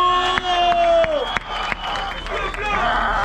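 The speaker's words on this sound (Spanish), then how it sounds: "fuerte los aplausos para Danu." Crowd at a freestyle rap battle final cheers and applauds loudly between rounds, a dense continuous wash of clapping and shouts with a voice rising over it.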